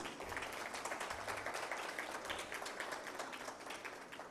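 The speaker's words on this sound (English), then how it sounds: "A big round of applause for our international speakers." A business summit audience in Islamabad applauds its international speakers with sustained, dense clapping from a crowd, steady and moderately distant throughout.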